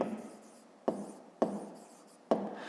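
Pen writing on paper during a fifth-grade math exercise, close and quiet, with three distinct taps as new strokes begin, each followed by a short scratching trail. No speech.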